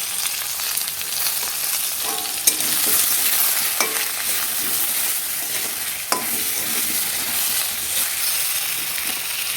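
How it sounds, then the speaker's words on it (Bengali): Potatoes seasoned with salt and turmeric frying in a pan: a steady, fairly loud sizzle runs throughout, broken by a few sharp clinks and scrapes of stirring. "আমি আলুর মধ্যেই একেবারে নুন হলুদ দিয়ে দেবো স্বাদ মতো দিয়ে আলুটাকে ভেজে নেবো ভালো করে"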